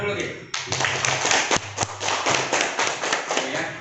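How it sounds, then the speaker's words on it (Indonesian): Students clapping in a classroom during a lesson, a burst of uneven handclaps with some thumps and voices mixed in. "Nah, tepuk tangan dulu, Ki."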